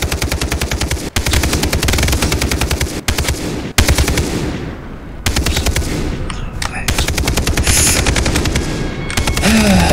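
Sustained, loud automatic gunfire from the video game Far Cry 3, rapid bursts rattling almost continuously across the whole stretch with a few brief gaps, close and dominant, with a faint voice underneath.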